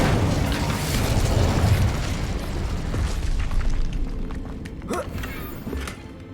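Incendio fire spell in Hogwarts Legacy erupts in a loud, booming rush of flame that gradually fades, with scattered crackles and small pops toward the end.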